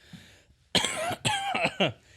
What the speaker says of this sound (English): That was a pro cough right there.